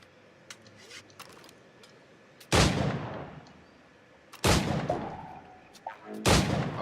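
Gunshots at targets in the Assassin's Creed 4 Black Flag video game, three loud, booming single shots spaced a couple of seconds apart, each with a long decaying tail over faint background clicks.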